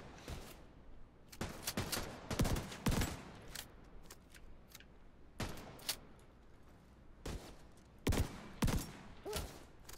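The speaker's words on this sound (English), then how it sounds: "I shot him in the body, then he dropped." Gunfire in The Division 2 video game: loud bursts of shots in clusters with short gaps, some sharp single cracks and dull thuds mixed in, steady background hum beneath.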